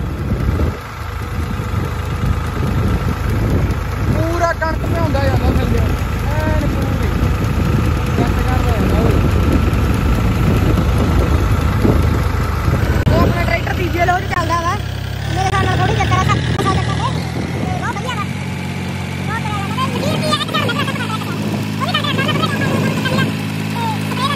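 A small spray pump engine chugs steadily throughout, running at a constant idle, with voices talking over it.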